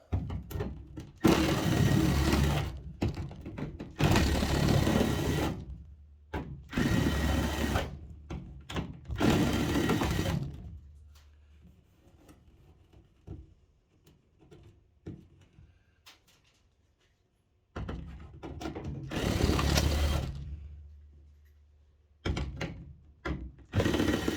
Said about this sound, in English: I'm going to use this 60-degree countersink bit, and I'm going to deburr all these holes on the top and on the bottom